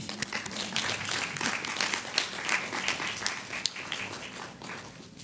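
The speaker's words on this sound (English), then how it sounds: "let's welcome Diane with our big round of applause." An audience at a graduation awards ceremony applauds steadily, a dense wash of many hands clapping at moderate distance that continues for several seconds before tapering slightly.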